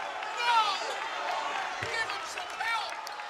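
Hometown basketball crowd in a gym reacting with upset murmuring and scattered shouts after a referee's call, a steady diffuse roar with a brief thump partway through.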